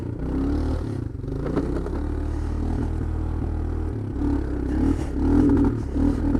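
A Suzuki Quadrunner 250 ATV climbing in four-wheel drive with the differential locked, its engine droning loud and close under load, surging higher near the end, with clatter and scraping from the machine over rough ground.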